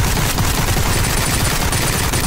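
Dense, loud, continuous gunfire from a round-based zombie survival shooter, a rapid unbroken barrage with no voices.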